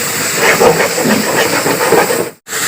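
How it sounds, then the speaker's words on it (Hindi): Boneless chicken for a green chicken handi fries hard in the pot, a steady loud broadband hiss and sizzle that runs unbroken before cutting out briefly near the end. "इसको अच्छी तरह फ्राई कर लेंगे।"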